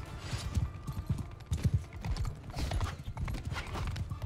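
Horse hooves clip-clop in the medieval battle game Mount & Blade II: Bannerlord. Quick, uneven thuds of several galloping mounts carry on at moderate volume, with faint mechanical clatter and no voices.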